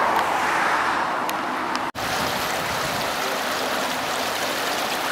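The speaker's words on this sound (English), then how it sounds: "Nice little creek flowing through out front here" A small creek runs past the front of a steakhouse in Gatlinburg, Tennessee, giving a steady broadband rush of flowing water that continues unbroken, with a brief dropout partway through and possible road noise mixed in.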